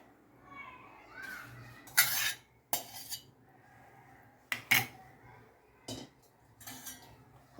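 A metal spoon scrapes and clanks against a cooking pan in several sharp bursts as cooked semolina is scooped in from a pressure cooker, with quieter scraping and faint background noise in between.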